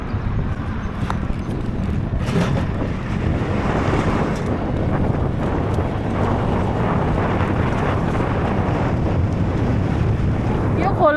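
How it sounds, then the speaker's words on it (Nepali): A small river flows steadily outdoors while wind buffets the microphone, giving a constant, loud rushing wash with no pauses and no clear voices. "यो चाहिँ यहाँको खोला।"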